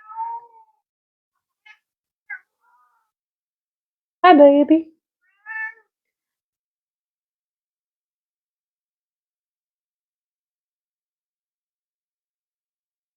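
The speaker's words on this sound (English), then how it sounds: "Oh, I hear my cat." A cat meows a few times, short and close, with long stretches of silence between; a person speaks briefly.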